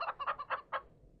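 Country chickens offered for sale give a quick series of five clucks, close and clear, then go quiet.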